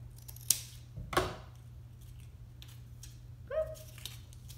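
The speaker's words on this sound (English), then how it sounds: "at the very bottom, I'm just gonna cut it right through there" Scissors cut through a toilet paper tube for a craft bracelet, giving a few sharp close snips and crunches spaced apart in a quiet room.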